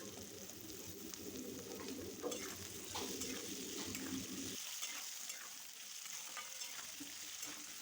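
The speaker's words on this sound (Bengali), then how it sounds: "আলুগুনি দিয়ে বেশ ভালো করে আলুগুনিকে নাড়াচাড়া করে সুন্দরভাবে ভেজে নিতে হবে" Diced potatoes fry with a steady close sizzle in a pan, stirred with repeated scraping strokes; the frying hiss stays continuous throughout, with brief faint bird calls in the background.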